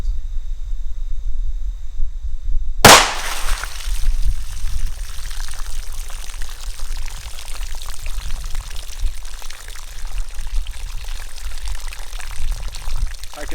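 A single sharp crack of a .38 Special firing a 158 grain Hornady XTP hollow point into water jugs outdoors, followed by splashing, pouring and trickling water that continues for several seconds.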